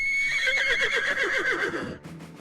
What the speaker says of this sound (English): The horse snickered.